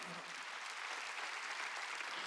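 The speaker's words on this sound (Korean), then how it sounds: "박수치라" A church congregation applauds during a Sunday worship sermon, a steady, dense wash of many hands clapping together, fairly faint and even throughout with no talk over it.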